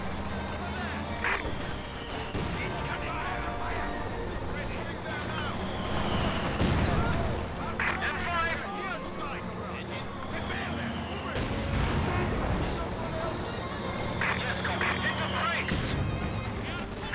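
Battle sounds from the World War II strategy game Company of Heroes 2: dense bursts of gunfire and machine-gun rattle with booming artillery in the distance, continuous and layered, with soldiers' shouted voice lines mixed in.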